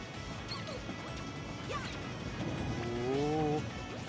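A bomb from Toon Link blows up during a Super Smash Bros. Ultimate match, giving a crash-like burst that sits under steady game music and crowd noise, with a few tonal effects near the end.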